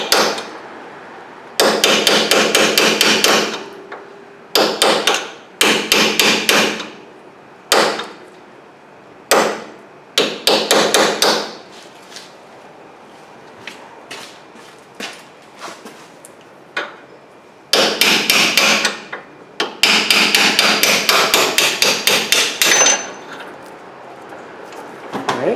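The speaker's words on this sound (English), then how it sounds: "we just put a little drift on here like this, a metal drift." A hammer taps a metal drift against a rear brake bolt on a 2007-2010 Kia Rondo, giving sharp metallic strikes in bursts and rapid clusters with short pauses between, loud and close, with no talk.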